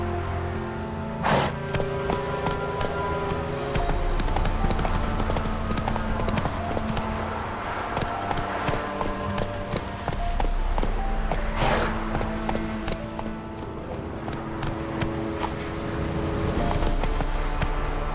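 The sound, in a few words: horse galloping and trotting in The Witcher 3 video game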